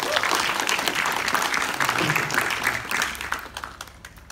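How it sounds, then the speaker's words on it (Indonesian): Audience applause fills a regional music festival at Taman Budaya, a dense, steady wash of many hands clapping that thins and fades over the last second, with a voice faintly audible beneath it. "Tepuk tangan buat kalian semua."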